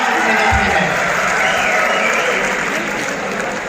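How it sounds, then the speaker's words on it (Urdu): Festival audience applauding at the Bahawalpur literary and cultural festival, a steady wash of clapping with crowd noise that runs through the whole stretch at fairly loud level, mixed with a voice. "آپ سب لوگ پہلے اپنے لیے تالیاں بجائیے"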